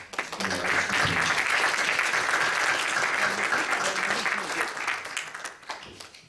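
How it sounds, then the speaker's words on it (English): An audience at an interfaith conversation event gives a sustained round of applause, dense and even for about six seconds before thinning out at the end. "So I think we should all just give them a round of applause."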